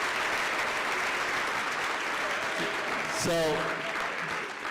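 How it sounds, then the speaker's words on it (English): A steady wash of audience clapping at a live event runs throughout, with a short spoken word briefly cutting in near the end. "how about another round of applause for these two guys"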